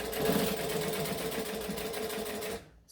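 Slowly top stitching a Jezebel bag, a sewing machine hums in one continuous, steady run with a rhythmic needle chatter, then stops abruptly near the end.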